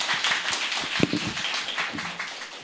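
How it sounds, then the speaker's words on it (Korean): Scattered applause from an audience at an academic symposium welcoming the next speaker, individual claps audible and fairly close, a thin smattering rather than a roaring ovation, with faint murmuring underneath. "그래서 박수로 환영해 주십시오."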